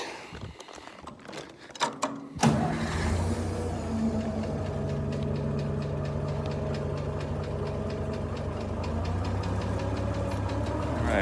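A 1955 IH pickup truck engine cranks and catches after a couple of seconds of rattling, then runs with a steady rough, knocking idle close by on a farm.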